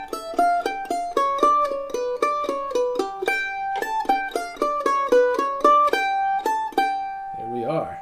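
Opening half of the A section of the bluegrass tune Blackberry Blossom, picked as a steady run of bright, evenly spaced plucked notes at a slow practice tempo, close and clear with no talking.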